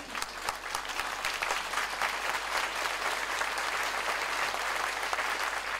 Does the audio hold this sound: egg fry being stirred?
no